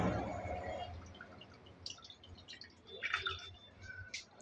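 Soaked rajma kidney beans are rinsed by hand in a bowl of water, with soft sloshing and a few small drips and splashes, close and fairly quiet.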